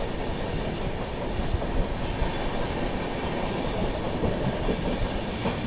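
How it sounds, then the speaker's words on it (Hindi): Jammu Mail passenger train running on rails through a curve, heard as a continuous loud low rumble and clatter of wheels on track from inside the moving train, steady throughout with no voices. "और ट्रेन क्या ही मस्त कर्व ले रही है।"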